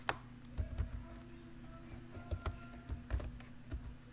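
Quiet, uneven key taps on a computer keyboard while typing into Microsoft Word, faint and close, in short clusters with small pauses between.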